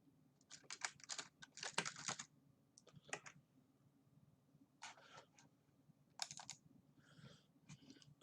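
Computer keyboard keys are typed into a calculator app in quick, close clicking bursts separated by short pauses, with no talking.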